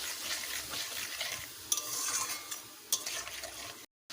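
Spices sautéing in a pan with a splash of water for a vegetarian banana-flower dish, a steady soft sizzle with light stirring scrapes and a couple of sharper clinks, no talking.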